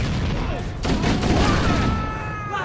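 Gunfire in Halo: Combat Evolved: a dense, continuous volley of shots and blasts, fairly loud and close, with a voice talking briefly over the battle noise.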